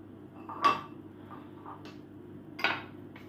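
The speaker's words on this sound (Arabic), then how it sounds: "راح نخلط بالمعلقة" A spoon mixing in a bowl of cookie dough ingredients, two distinct clinks of metal on the bowl amid soft scraping, fairly quiet and close, no voices.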